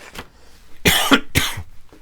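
Two or three close, harsh coughs burst out, a fainter one first, then two loud ones in quick succession with short gaps between them.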